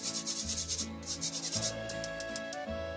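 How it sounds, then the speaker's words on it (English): A spoon scrapes and rubs glaze through a metal strainer in a kitchen, close and fairly quiet, in repeated rhythmic strokes with no talking. "using a spoon or spatula, whatever you have, just start working it through the strainer"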